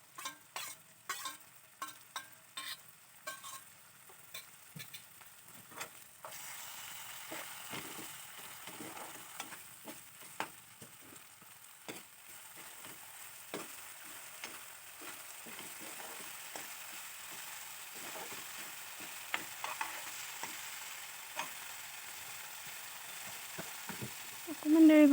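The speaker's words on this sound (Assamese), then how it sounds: "এয়া সৰিয়হ আৰু নৰসিংহৰ পেষ্টটো দি দিছোঁ মই, ধুনীয়াকৈ অলপ ভাজি ল'ব লাগিব" Mustard and green chilli paste frying in a pan for Assamese fish curry, with steady sizzling and occasional stirring scrapes running throughout, close and moderately loud, no talk.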